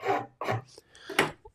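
A wooden Christmas candle bridge is worked with a file and rasp, giving several short, coarse scraping strokes in uneven bursts, close by and without talk.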